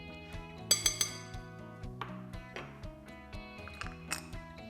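Utensil clinking against a bowl while red gel food colouring is stirred into a white chocolate dessert mixture, a run of light, close metallic taps and scrapes over soft background music, no talking.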